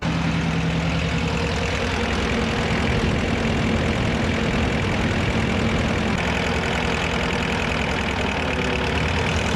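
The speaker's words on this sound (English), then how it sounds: "I added a clamp to my stick and now it'll idle." Diesel engine of an HD dually mini truck idling steadily with a rough, knocking low rumble, close and continuous throughout, with no talking.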